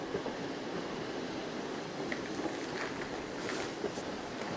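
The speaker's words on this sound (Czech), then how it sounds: "Tak jedeme, nasedli jsme na vláček a jedeme domů." A train ride in a children's stage play, carried as a steady, continuous rumbling roll with faint clicks on top, moderately loud and unbroken, with no voices.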